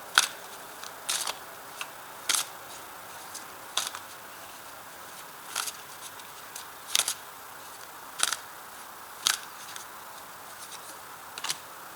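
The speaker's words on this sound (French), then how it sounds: "Je vais recouvrir la carte." Tarot cards are turned over and covered, giving a series of sharp, quiet paper snaps and slides, about a dozen of them spaced irregularly against a near-silent room.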